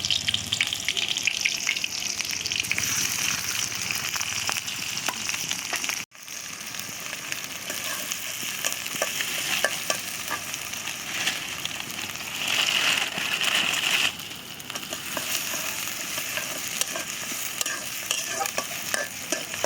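Khichuri with winter vegetables fries in oil in a village kitchen. A steady, close sizzle runs throughout, with repeated stirring scrapes and a brief dropout partway through.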